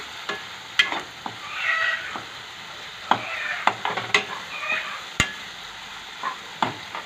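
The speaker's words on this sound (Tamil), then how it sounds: "இப்போ நல்லா கிளறி விட்டுக்கலாங்க. எண்ணெய் பிரிஞ்சு வந்துடுச்சு." Vada curry fries in oil in a pan while a spoon stirs it, producing scraping, clinking strokes over a soft, intermittent sizzle, close and fairly loud.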